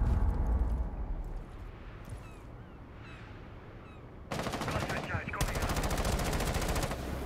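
Gunfire in a tactical shooter match, a burst of rapid shots rising abruptly after a quieter stretch of background game noise, loud and sustained to the end.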